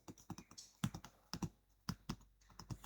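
Keys clatter in irregular bursts as someone types a short chart title on a computer keyboard while working in an Excel spreadsheet, close and moderately quiet, with no talking.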